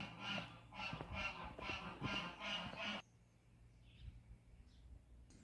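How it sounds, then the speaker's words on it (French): Kept geese beside a pond on the Atlantic coast of France give a loud run of rhythmic, overlapping honks for about three seconds, then fall quiet, leaving only faint distant calls. "c'est pour ça qu'il y a des oies"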